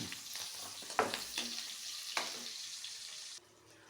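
Garlic and then onion sautéing in a pan for chicken feet and blood tinola, a steady broadband sizzle with a few sharp stirring clicks, close and moderately loud, fading quieter near the end.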